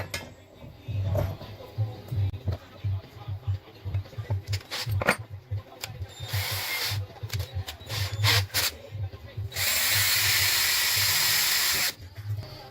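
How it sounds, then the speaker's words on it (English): A hand drill with old, worn-down bits grinds in bursts while modifying a bracket. Short scratchy spurts build to a longer hissing whir, with faint handling clinks between. "I'm really having a hard time drilling because these are some old bits and they've been worn down"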